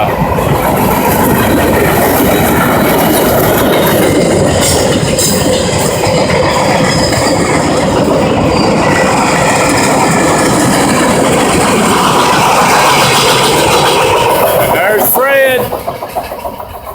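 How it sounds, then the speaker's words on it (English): A loud Norfolk Southern freight train speeds past close by between Spring City and Dayton, Tennessee, with a continuous roar, rattling and clanking, then a brief high squeal as the noise begins to drop off. "That train was awful loud."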